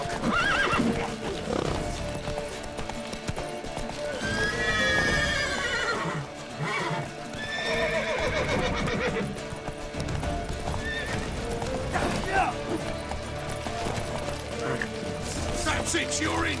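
A horse in The Witcher 3 video game gallops with rapid clip-clopping hooves and lets out loud, wavering neighs and whinnies, close and prominent, while voices shout over the action.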